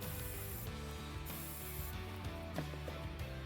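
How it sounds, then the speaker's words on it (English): Silicone spray hissing from an aerosol can onto the airbox mounting nuts of a 2017-2019 Ford F-150 Raptor during a cold air intake install, a continuous close spray lasting a few seconds with faint handling clicks. "All we have to do is spray some silicone spray on here."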